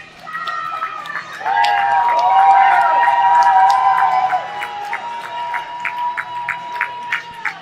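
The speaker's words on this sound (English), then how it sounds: "Why are they cheering?" Spectators at a varsity hockey game break into cheering, a rising swell of voices and shouts that peaks loudly for a few seconds, then drops to scattered yells and chatter over a rink-echo background.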